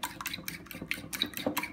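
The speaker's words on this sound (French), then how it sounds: "après avoir cassé les œufs dans un plat, vous allez les battre séparément" A whisk beats eggs in a dish, quick irregular scraping strokes against the bowl, close and fairly quiet, with no talking over it.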